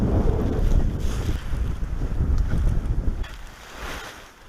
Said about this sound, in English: Try and get out of the wind to pack it away, because it's a bit too strong down here.